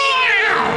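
A cartoon cat gives a single drawn-out meow, close and loud, its pitch falling toward the end.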